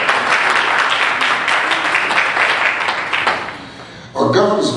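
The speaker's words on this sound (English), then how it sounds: "Come on, clap your hands" Church congregation clapping hands during a sermon, a steady burst of applause that dips briefly and surges again near the end, with voices mixed in.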